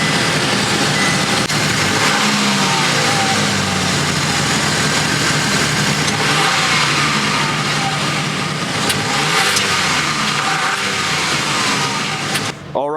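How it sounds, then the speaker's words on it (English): Exhaust of a 2024 Chevy Trax 1RS with a 1.3 liter engine, heard up close as it idles and revs in several rising and falling sweeps, loud and alone, cutting off at the end. "That's the exhaust clip out of the Chevy Trax 1RS."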